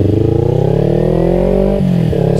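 Loud, close motorcycle engine, an H2 fitted with a Sakti Moto AJ Series H2 SS exhaust, holding a steady deep drone with rising tone before a brief dip and recovery.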